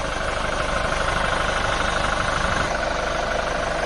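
A Hyundai Starex van engine idles steadily up close, a dense, even rumble with a faint rhythmic knock running through it.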